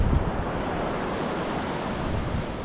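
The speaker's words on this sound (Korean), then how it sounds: "어우 파도가 장난 아니네" Strong ocean waves break on a Koh Rong island beach in Cambodia, a steady, dense roar of surf with wind rushing across the microphone.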